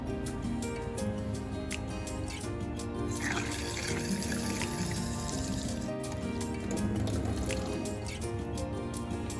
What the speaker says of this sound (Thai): ให้นำไข่แดงมาล้างให้สะอาดนะครับ